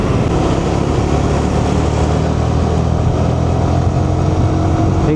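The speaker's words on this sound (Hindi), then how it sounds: "जैसे ही रेड लाइट खुलती है भाई, यहाँ पे इतना बाइकें निकलती है भाई" Many motorbikes surge away together in dense street traffic as a red light turns green, a loud continuous roar of engines revving and accelerating close by without pause.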